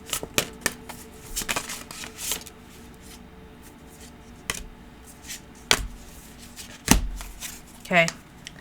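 Tarot cards shuffled by hand in a series of crisp riffling bursts and soft slaps, close and fairly loud, with quiet pauses between flurries and a brief whirring riffle near the end.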